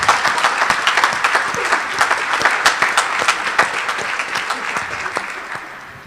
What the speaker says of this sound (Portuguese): Vamos aplaudir nós dois, moça?